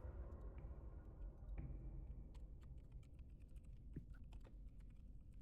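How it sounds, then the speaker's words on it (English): Someone types on a computer keyboard in a quiet room, soft scattered key clicks coming in small irregular clusters, faint and close over a low background hum. "are you typing that?"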